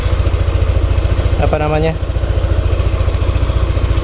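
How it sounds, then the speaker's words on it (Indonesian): Motorcycle engine idling on Meditran SAE 40 oil, a loud, close, steady rhythmic chugging throughout, with a short burst of speech over it midway. "Sejak pakai Meditran SI40, mesinnya idle-nya jadi stabil"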